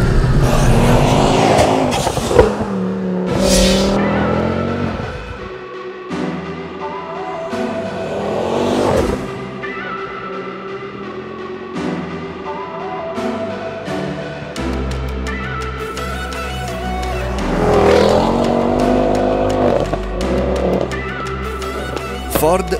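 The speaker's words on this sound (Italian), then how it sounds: "Ford Focus RS." A 500 hp Ford Focus RS with a K16 hybrid turbo is driven hard, its engine revving up and down through repeated loud acceleration surges, close and dominant throughout.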